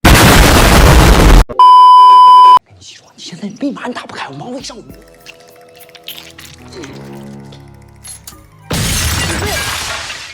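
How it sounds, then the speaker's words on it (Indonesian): Safety glass shatters from an explosive in a dense, harsh crashing burst, followed by electronic beeps, dripping and trickling sounds, then another noisy crash. "Akhirnya, kaca itu pun berhasil pecah."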